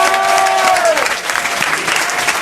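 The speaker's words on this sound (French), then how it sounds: "Et on vous applaudit," A French TV studio audience breaks into dense, steady applause, loud and continuous, with a brief high whistling tone fading early on.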